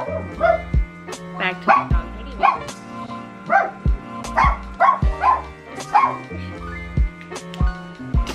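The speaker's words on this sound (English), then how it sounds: "My dog hates everybody and everything, so if he hears anything, he just starts going off." A small dog yaps and barks repeatedly indoors, sharp irregular bursts with whimpery yips in between, close and fairly loud, with no talking over it.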